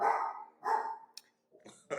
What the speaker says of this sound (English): He's 13 and he decides to bark now.